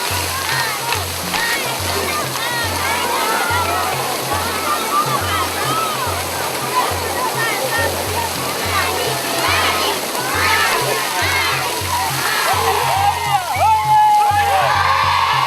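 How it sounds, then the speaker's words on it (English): A newly drilled deep well is flushed in front of watching schoolchildren, with water gushing out in a loud, steady roar and splash that holds throughout, and some faint voices underneath. "Here the school children marvel at the flushing of the well after successful drilling."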